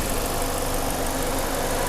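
A 2020 Mazda 2 1.3-litre engine idles steadily with a low, even rumble and no voices.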